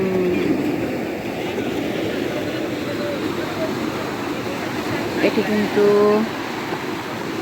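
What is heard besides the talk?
sea waves on Cox's Bazar beach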